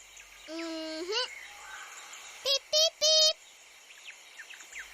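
A small blue bird gives a drawn-out rising whistle, then three quick bright chirps in a row, clear and fairly close, with faint quieter calls in the background.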